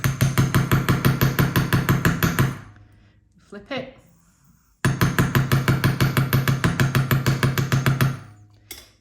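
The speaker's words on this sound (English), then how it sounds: "give each one of these hoops a little bit of a hammer" Wire hoops for a gemstone bracelet being hammered on a bench block, two bursts of rapid, even metallic taps close by, separated by a pause in which someone speaks briefly.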